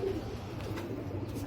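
Royal Teddy pigeons, a breeder pair among several in a loft, cooing in low, continuous murmurs close by, with no talking.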